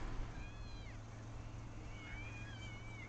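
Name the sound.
cat meowing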